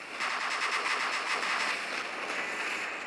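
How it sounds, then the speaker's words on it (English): Unguided rockets firing in the video game War Robots, a dense rapid volley of sharp bursts that runs steadily for several seconds, loud and close with no speech. "So these are unguided rockets"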